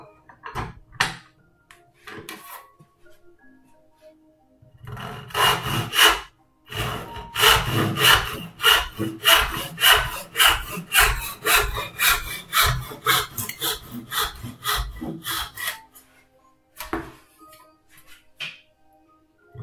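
A hand saw cuts a wooden crib piece in steady back-and-forth strokes, close and fairly loud, with a few short pauses and scattered knocks before and after the run of sawing.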